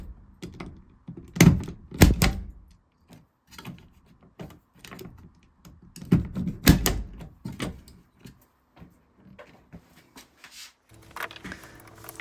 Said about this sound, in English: I happen to like the punch down tool that cuts when you do